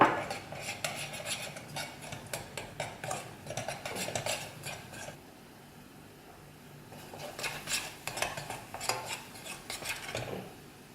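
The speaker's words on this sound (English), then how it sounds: "Just give it a good stir." A spoon scrapes and clinks around a pan while a spice mixture of turmeric, coriander powder, chili and garam masala is stirred for prawn masala. The scraping comes in close, uneven bursts with a short quiet gap in the middle.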